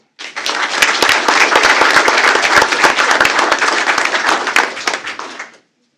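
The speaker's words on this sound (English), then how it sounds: "Please join me in giving a round of applause for Kylie Young." A school board meeting audience breaks into a round of applause for a student, Kylie Young, a loud, dense burst of many hands clapping that starts abruptly, holds steady for about five seconds, then stops.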